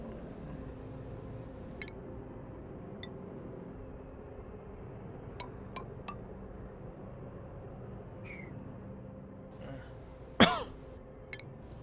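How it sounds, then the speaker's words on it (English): One sharp cough bursts out close to the microphone near the end, after a long quiet stretch of low hum and faint clicks. "Didn't mean to cough in your ear."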